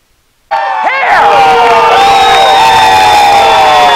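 A large live audience at a company call bursts into loud cheering, screaming and whooping that erupts suddenly after a brief silence and holds at full, dense intensity throughout, with piercing high shouts layered on top.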